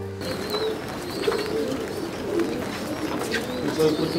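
Racing pigeons cooing inside a breeding loft, a steady murmur of soft overlapping coos with a broadband background hum, the birds close and constant throughout.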